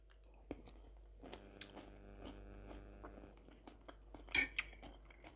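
Crunchy food being chewed close to the mic, with several crisp bites and soft clinks of cutlery, then a sharper crunch near the end.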